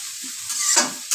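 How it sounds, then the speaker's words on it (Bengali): Half a kilo of sliced onions fry in hot oil for biryani beresta, a soft sizzle with brief louder hissing surges as they are stirred, close and without talk. "আর পেঁয়াজ বেরেস্তা ভাজতে একটু সময় লাগবে।"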